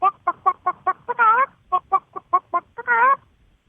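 A person's voice imitates a hen, giving a run of clipped clucks that twice build into a drawn-out cackle, close and clear against silence.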